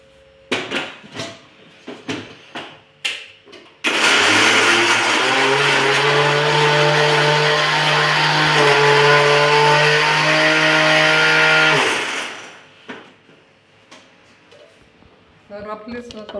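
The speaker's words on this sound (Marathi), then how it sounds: "आणि मिक्सरने फिरवून घ्यायचं थोडंसं।" Mixer grinder blending raw mango chutney with pickle masala, a loud steady whirring drone of about eight seconds that starts and stops abruptly, with speech before and after.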